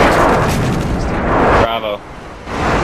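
Rumbling explosions from a friendly Harrier airstrike in a first-person shooter video game, loud dense blasts for the first part, then a brief lull before they build again.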